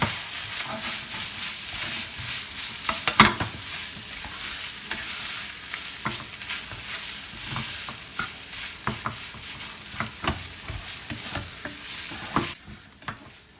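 A spoon stirs chicken croquette (coxinha) filling in a hot pan, with an ongoing sizzle and repeated scraping strokes, close and moderately loud, with no talking.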